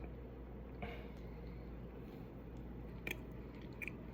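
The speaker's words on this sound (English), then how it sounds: "the Oreos are fresh and crunchy" Quiet chewing and biting into a crunchy Oreo white chocolate chip cookie from a gas station bakery, with a few crisp crunches near the end over a low background hum, no talking.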